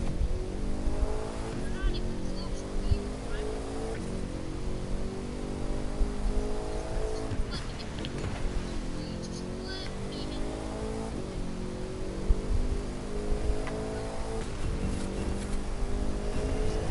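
A Bugatti Veyron races in the driving game The Crew, its engine droning and climbing through repeated rising gear sweeps, with tire noise and an occasional impact, loud and continuous throughout.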